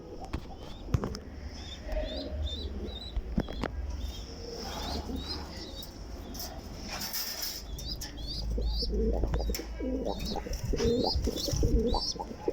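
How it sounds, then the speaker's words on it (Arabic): Pigeons in a loft cooing repeatedly and flapping their wings in bursts, close and fairly loud, with scattered chirps and someone talking quietly at times. "فرد حمام بيزق"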